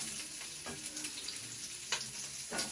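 Onions sizzle in hot oil with a steady frying hiss, broken by a few louder spattering bursts near the end, close and with no talking.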